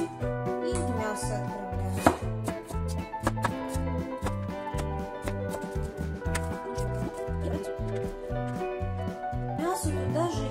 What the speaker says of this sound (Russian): Остальной лук я нарезаю и мясо